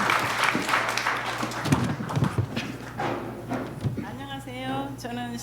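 A church congregation applauds for a testimony speaker, with scattered clapping and thumps that fade as a voice begins talking at the microphone.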